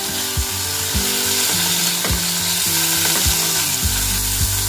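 Paneer frying in a pan, turned now and then: a loud, steady sizzle and hiss with regular knocks of a spatula against the pan, roughly every half second.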